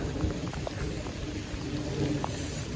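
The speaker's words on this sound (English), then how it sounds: "walking around in the rain" Steady outdoor rainfall on a cold, soggy day, heard as an even, moderately loud hiss with scattered close drops and patters, with no voices over it.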